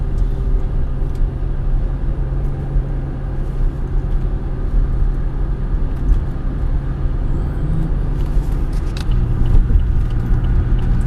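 A 2005 GM car with a newly replaced 4T65-E transmission accelerates up a highway on-ramp, its engine and road rumble heard steadily and loudly from inside the cabin, with no talking.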